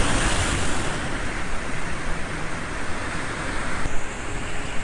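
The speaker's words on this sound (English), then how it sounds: "There are plenty of waves happening" Ocean surf at Morro Bay washes in a steady, close roar with a faint wind rumble, one continuous rush of breaking water and no voices.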